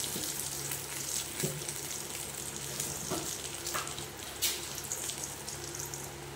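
Bengali five-spice tempering (panch phoron) with mustard seeds and turmeric frying in hot oil for a bean curry, a steady close crackle and sizzle running the whole time with a few sharper pops.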